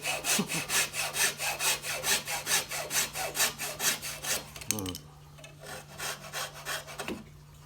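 Rhythmic back-and-forth strokes of a hacksaw cutting wood, steady and close, with a brief pause before the sawing resumes more quietly.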